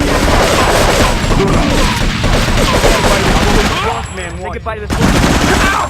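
Dense rapid machine gun fire and bursts of gunshots during a rampage mission in the video game Grand Theft Auto III, loud and near, with faint crash-like hits mixed in.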